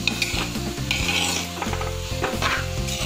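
Beef curry ingredients with a pinch of salt sauté in a clay pot, sizzling loudly up close with repeated stirring and scraping, accompanied by background music.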